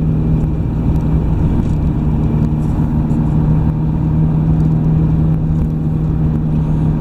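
A car drives along Zamczysko street, heard from inside as a loud, steady engine drone with continuous road rumble and no break for the full stretch.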